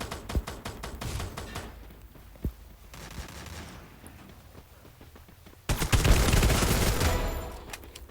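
Bursts of rapid gunfire in the video game Free Fire crackle in short volleys with scattered single shots, ending in a louder sustained barrage.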